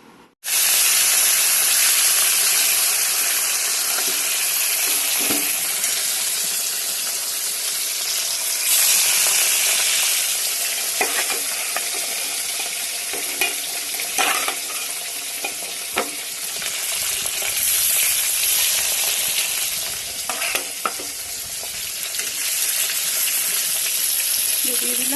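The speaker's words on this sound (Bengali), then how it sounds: "একদম হালকা হালকা করে ভাজবো, বেশি ডিপ ফ্রাই হবে না মাছটা" Fish fried lightly in a pan rather than deep-fried, a steady loud sizzle and hiss with occasional stirring scrapes throughout, no talk heard.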